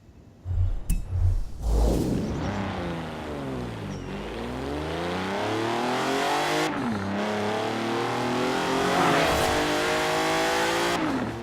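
Hot Wheels Twin Mill engine in Forza Horizon 4, revving hard through repeated gear changes, pitch sweeping up, dropping and climbing again, loud and close with a few clinks at the start.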